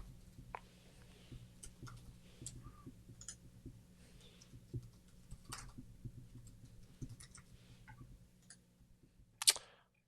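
Sparse, faint keystrokes on a computer keyboard, with scattered single clicks over a quiet background hum and a sharper click near the end.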